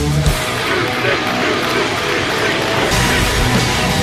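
A wrestling crowd at a Melbourne City Wrestling show roars steadily, a dense wash of cheering and yelling that holds at full loudness for the whole stretch without letup.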